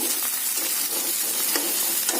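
Cashews and raisins frying in ghee give off a dense, continuous sizzle with faint stirring scrapes, close and even throughout, with no talking.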